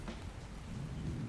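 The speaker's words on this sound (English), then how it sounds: "Here the rain and the thunder." In-game rain and thunder from a survival game map rumble together as a dense, steady wash, with a low roll of thunder under the downpour and no voices.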